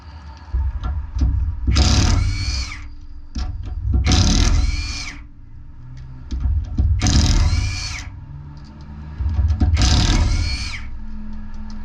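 Power tool, likely an impact wrench, removing the wheel from a Ford Territory with stuck brake calipers, firing four loud, close bursts of roughly a second each, with quieter clatter and handling noise in the gaps.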